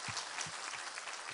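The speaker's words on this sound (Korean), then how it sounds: "우리 하나님께 감사와 영광의 박수 올려드리겠습니다" A church congregation claps in thanks and praise during a Sunday morning worship service, a broad, even wash of many hands heard at a distance and fairly quiet, with a few low thumps mixed in.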